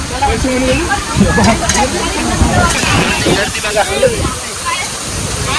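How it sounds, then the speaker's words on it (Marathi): A monsoon waterfall on the Harishchandragad trek roars as a loud, continuous broadband rush, close by, with voices from a crowd mixed in underneath. "हे धबधबे बघा ना"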